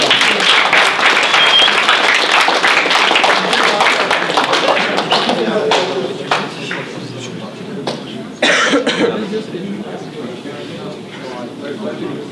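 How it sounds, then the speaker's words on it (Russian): Crowd applause at a Russian battle-rap event: dense clapping with whoops and voices fills the room loudly at first, then thins into scattered claps, coughs and chatter before a brief swell returns. "Давайте похлопаем."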